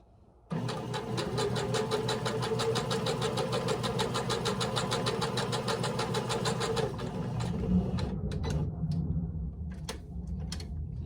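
A sewing machine runs steadily, top stitching around a fabric reversible napkin ring, a continuous close mechanical whir that stops after several seconds, followed by a few faint clicks and handling sounds.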